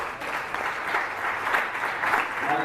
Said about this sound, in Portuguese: Você pode aplaudir o Senhor nesta noite?